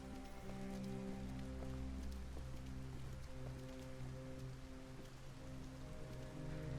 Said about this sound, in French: Non mais il pleut toute la journée à Détroit ou pas?